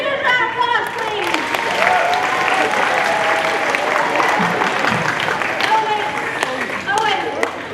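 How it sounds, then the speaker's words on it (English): A high school assembly crowd gives a long, loud round of applause with whoops and overlapping voices, steady clapping throughout and shouts rising briefly near the end. "Everybody give them a huge round of applause, please."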